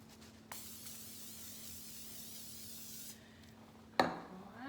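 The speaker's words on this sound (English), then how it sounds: "I am going to spray a little oil on the same sheet pan that I baked the pecans with" Short burst of cooking oil spray onto a metal sheet pan used for baking pecans, a steady hiss lasting about two and a half seconds, close and moderate, followed by a sharp clatter and quiet rustle.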